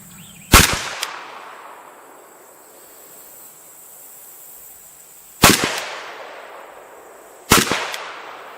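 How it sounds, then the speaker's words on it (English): An AK rifle fires three sharp, loud shots, one early and two spaced several seconds later, each followed by a short echoing decay at an outdoor range. "we'll just do a 3-shot group without touching the scope at all"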